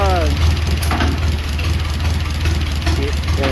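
A 1920 Allis Chalmers 6-12 tractor engine runs at a steady low idle, with an even, close chugging rumble throughout and a voice briefly over it.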